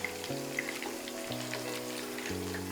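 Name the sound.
chicken kebabs frying in hot oil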